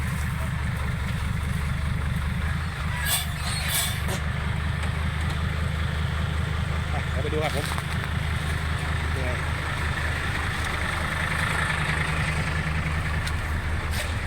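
A tractor engine idles steadily in a rural spot before clearing a muddy track, a constant low rumble running the whole time beneath someone talking.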